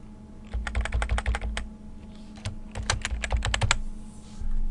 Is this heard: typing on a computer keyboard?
yes